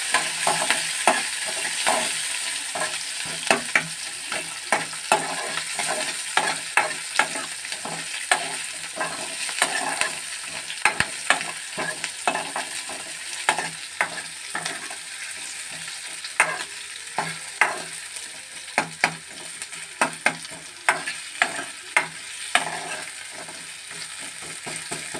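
Green chilies and onions sautéing in a pan, a continuous close sizzle broken by frequent rhythmic scraping stirs and clinks throughout, with no talking.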